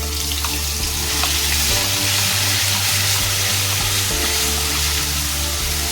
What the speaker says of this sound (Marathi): प्युरी आहे ना आपली चांगली ना एकदम फ्राय करून घ्यायची मस्तपैकी तेल सुटेपर्यंत